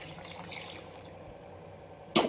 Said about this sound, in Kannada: ಬಿಸಿನೀರು ಹಾಕ್ತಾಯಿದ್ದೀನಿ